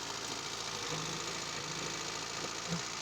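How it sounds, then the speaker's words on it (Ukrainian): A ZAZ Slavuta car engine idling steadily with a low, even rumble and faint mechanical ticking, constant throughout with no voices. "Мотор працює чітко, рівненько."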